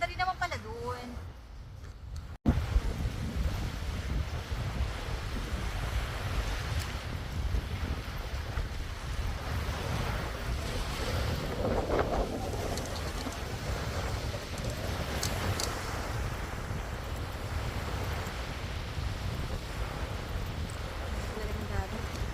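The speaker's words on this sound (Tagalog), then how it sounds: "Talagang dagat." Wind and sea wash around a boat on a trip off Aurora province, a steady broadband roar with gusting microphone wind that runs on after a brief quiet start, and voices are faintly audible underneath.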